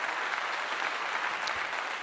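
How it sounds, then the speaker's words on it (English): Clapping heard as a steady, even wash of applause-like noise for two seconds, fairly loud and without talk over it. "Yes, I'll give you a clap on that."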